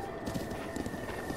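A horse's hooves clip-clop in the video game Breath of the Wild, three or so faint, evenly spaced beats over a steady tonal background.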